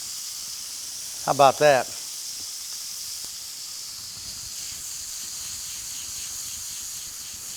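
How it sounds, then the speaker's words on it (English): Lemon juice squeezed into a hot pan with pork tenderloin gives a steady, moderately loud hiss that carries on throughout, briefly interrupted by someone speaking. "Put that lemon right in the pan"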